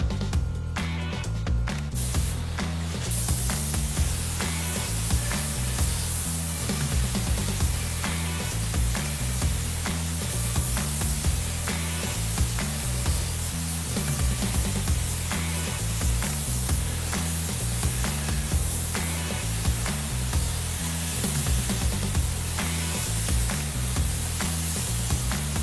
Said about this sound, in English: I sprayed 3 coats of Omni base coat and 3 coats of Finish One clear.